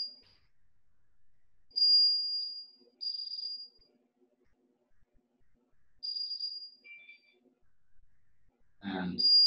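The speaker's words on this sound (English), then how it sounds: "And this is the burglar alarm event." A burglar alarm event signal from an ecoLINE PRO alarm system, a high-pitched electronic tone sounding in a few separated beeps of varying length, including one lower chirp, over faint background hum, with a short noisy burst near the end.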